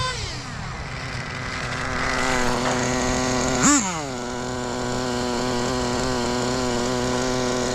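A nitro-powered HPI Savage X RC monster truck with a Novarossi 28 engine drag racing, its high-pitched two-stroke whine holding steady, then flaring in one sharp rev burst before settling back into a buzzing drone.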